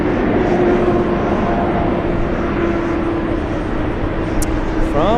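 TAP Air Portugal airliner from Lisbon at JFK, a continuous jet engine roar with a steady whining tone, fairly loud and near, with a brief chirp near the end.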